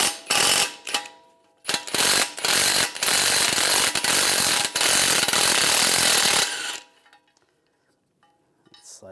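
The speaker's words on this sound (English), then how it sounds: "Now we're going to take the nut off for the ball joint because we're going to reuse the ball joint on the new knuckle." Ratchet wrench with an 18mm socket backing off the ball joint nut on a 1998-2010 VW Beetle suspension knuckle: loud, close, rapid clicking bursts in several spurts, then a long steady run that stops abruptly.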